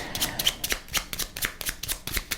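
Cardboard cards from the board game Paleo are shuffled by hand, a quick run of crisp riffling snaps in an even rhythm, close and quiet, with no talking.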